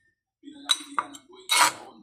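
Pancit canton noodles being stirred in a pan, heard as short bursts of metal utensil clatter and scraping, separated by brief pauses.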